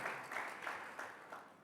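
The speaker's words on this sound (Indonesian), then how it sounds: "Mari berikan tepuk tangan." A church congregation gives a short round of applause, a soft, distant wash of many hands clapping in a few gentle swells.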